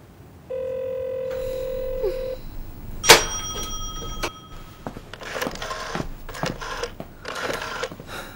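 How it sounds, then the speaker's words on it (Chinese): A landline telephone in a home drama scene: a steady dial tone, then a string of short keypad beeps as a number is dialed, followed by a sharp click and quieter handset rustling. "凯越，你这愁眉苦脸的给谁打电话呢？"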